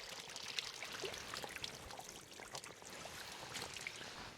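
Natural water trickles steadily along a trail on Malangad Fort, a faint, continuous watery wash with soft splashy flecks and no voices.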